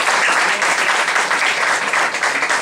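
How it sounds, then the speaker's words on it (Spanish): Dense, steady audience applause welcoming guests to a program, loud and continuous throughout with no voices over it. "con la mayor seriedad del mundo damos con un aplauso la bienvenida a nuestro programa"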